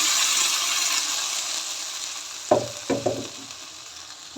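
Ground masala paste frying in a pan with green chillies for an egg sambar, a steady close sizzle broken by a few stirring scrapes near the end.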